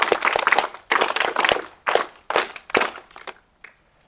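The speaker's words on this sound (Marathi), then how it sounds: "सर्वांनी टाळ्या वाजवल्या जोरात" Audience at a primary school event clapping in several separate bursts, each loud and close, with short pauses between them and a lone faint clap near the end.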